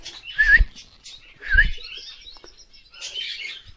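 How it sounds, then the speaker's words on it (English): Aviary birds including Amazon and African grey parrots and canaries call nearby, with two sharp whistled chirps and a softer trailing twitter in an otherwise quiet space. "It's got some absolutely gorgeous birds in here, absolutely superb. Some of them will actually sing to you as well."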